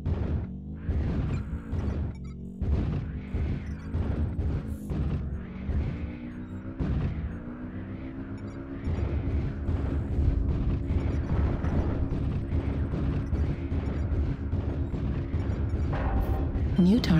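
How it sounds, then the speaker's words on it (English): Artillery strike explosions in a video game, a dense run of heavy booms and crashes rumbling continuously and loudly, mixed with a game announcer voice. "Artillery strike activated."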